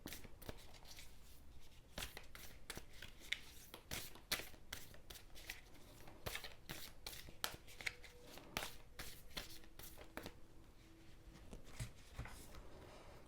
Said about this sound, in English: These ones can often take a long time to shuffle.